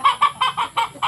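Native chickens clucking up close, six loud rhythmic clucks in quick, evenly spaced succession with no talk.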